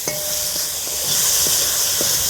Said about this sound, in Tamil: பூண்டு நல்லா வதங்கிட்டு அப்படியே தக்காளியை உள்ளே இறக்கிடும் பொடிசு பொடிசாக வெட்டி வச்ச தக்காளி